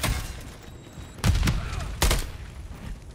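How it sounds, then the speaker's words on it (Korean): Two sharp, booming blasts about a second apart, standing out above a low background rumble, as a grenade explodes during a Modern Warfare 3 multiplayer match. "수류탄 간다"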